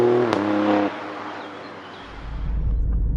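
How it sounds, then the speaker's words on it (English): Alfa Romeo Stelvio Quadrifoglio with a Ferrari-derived V6 gives a loud, close exhaust rev that drops off after about a second, then settles into a low burbling rumble that swells again near the end. "this is a V6, and not just any V6, this is a Ferrari derived V6"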